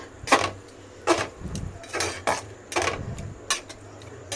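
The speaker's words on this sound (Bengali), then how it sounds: "এইটা দিয়ে একটু ভালো করে নাড়তে হবে" Fish being stirred in a cooking pan, giving repeated sharp utensil knocks and scrapes against the pan at a steady, uneven rhythm over a low background hum.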